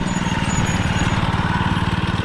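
A minibike's small engine idles steadily up close, its fast, even low-pitched putter holding a constant rhythm with no people talking.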